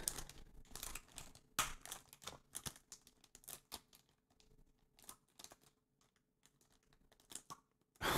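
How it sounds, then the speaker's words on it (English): A plastic bag wrapped around a vaporwave cassette is torn open close up, giving quiet, irregular bursts of crinkling and ripping with short pauses between them and no voices. "I just broke the bag"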